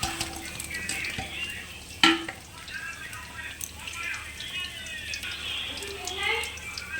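Pieces of fried desi rohu fish slide into a simmering curry in a pan, a brief clunk followed by a steady low sizzle and bubbling, with some background noise throughout.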